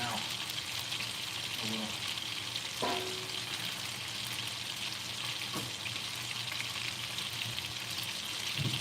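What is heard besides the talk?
sizzling in a ruined stainless steel pan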